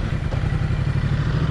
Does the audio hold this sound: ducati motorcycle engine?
yes